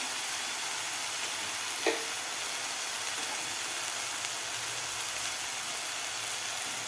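Ground spices and masala frying in a pan for a spicy Maharashtrian curry, a steady hissing sizzle that fills the whole stretch, with one brief clink of a utensil and no talk.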